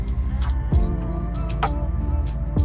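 A BMW E39 M5 with Hamann modifications idles steadily in cold weather, running a little rich, with a continuous low engine rumble and a few faint clicks and higher transient sounds over it.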